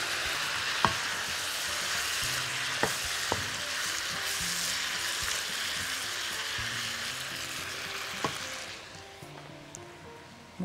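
Sliced mushrooms sizzle steadily in a hot pan, with a few sharp clinks of a utensil stirring them; the frying stays loud and close throughout, then quiets near the end, with no talking.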